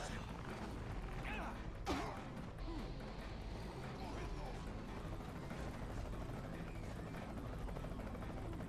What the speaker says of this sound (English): Oh, there's the helicopter coming to scoop you up soon.